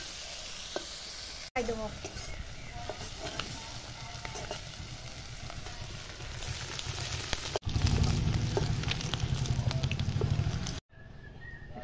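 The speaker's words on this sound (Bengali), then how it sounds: "লবণ হলুদ মাখাইয়া একটু ভাজি নিলাম।" Jackfruit pieces coated in salt and turmeric sizzle and fry steadily in hot oil, a loud continuous crackle with occasional stirring, and a voice speaks briefly.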